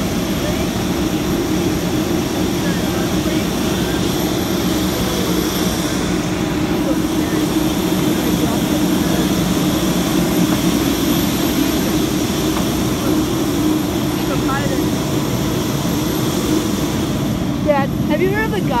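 Steady low engine drone of an airplane cabin, a constant broadband roar with no letup, with faint voices murmuring underneath.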